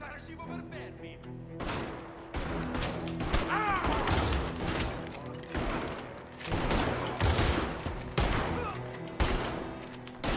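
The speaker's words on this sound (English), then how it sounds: "Apparently, I'm using a shotgun now." Shotgun blasts and surrounding gunfire in the western game Red Dead Redemption 2, a string of loud, booming shots with metallic reloading clicks between them, close and punchy.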